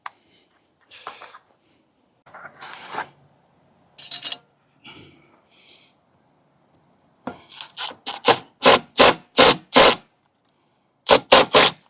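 A drill bit countersinks the edge of a hole in boat gel coat during trim tab installation. Scattered faint scrapes come first, then a run of short, sharp, loud grinding bursts close by, with no voices.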